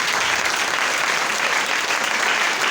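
A church congregation bursts into sustained, loud applause praising Jesus, dense clapping from many hands filling the room steadily without pause.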